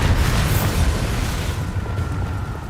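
Bombardo blasting spell erupting in Hogwarts Legacy, a loud, dense booming explosion that starts at full force and slowly thins out over a couple of seconds, with no voices.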